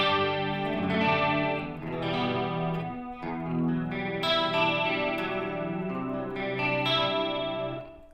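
An electric guitar played through a Line 6 Helix rings out with chorus and delay effects, sustained chords and single notes echoing and shimmering into one another.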